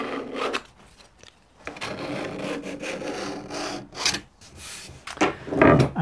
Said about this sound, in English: And just burnish that down.